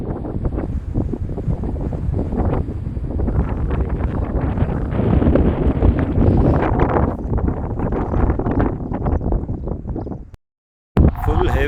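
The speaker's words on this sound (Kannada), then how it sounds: "ಫುಲ್ ಹೆವಿ ಗಾಳಿ ಇದೆ" Strong gusting wind on a hilltop at Kappata Gudda buffets the microphone in loud, roaring bursts almost throughout, briefly cutting out near the end, while a person speaks over it.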